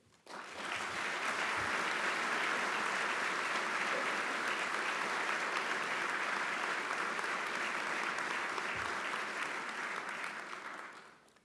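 A large crowd at the 2016 State of the Coast Guard address claps steadily for about ten seconds, swelling in quickly, holding a dense even roar, then fading out at the end.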